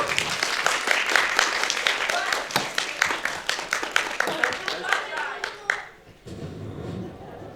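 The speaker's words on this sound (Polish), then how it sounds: "wielkie brawa!" Audience at a cosplay contest at a convention clapping loudly and rhythmically in sharp, near claps for several seconds before the applause cuts off abruptly near the end, leaving quiet room noise.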